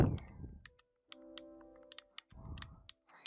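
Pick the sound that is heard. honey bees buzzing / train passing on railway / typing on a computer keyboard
typing on a computer keyboard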